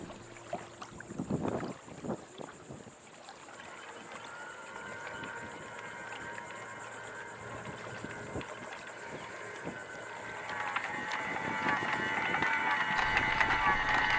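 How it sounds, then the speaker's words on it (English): A boat's anchor windlass lifts the anchor and chain off the bottom, giving a low, continuous grinding groan with creaks and clunks. Wind and water noise run underneath, and the machinery swells louder toward the end. "now you can hear the anchor windlass grunting and groaning as it's lifting the anchor up off"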